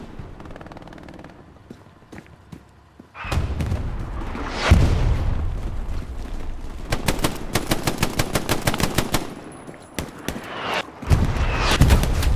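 Gunfire in the WWII shooter Hell Let Loose during a competitive match on the Carentan map: a quiet start gives way to dense rapid automatic bursts and single cracks, with a heavy booming blast near the end, loud and close.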